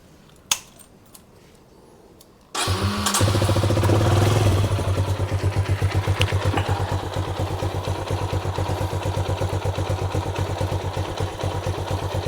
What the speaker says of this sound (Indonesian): sekarang saya mau angetin dulu mesinnya